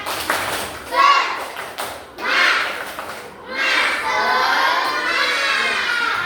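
Group of children at a lesson performing a rhythmic spirit clap chant, loud bursts of young voices shouting together with clapping, close and lively, in several waves.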